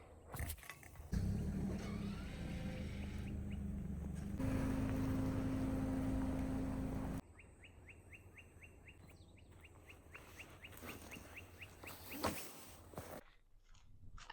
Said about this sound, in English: I'm gonna move my car.